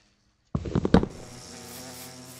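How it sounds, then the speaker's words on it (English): Minecraft bees buzz in a loud, close drone that kicks in suddenly, with a few sharp hits at the start before settling into a steady hum. "Let's build our house around the bees"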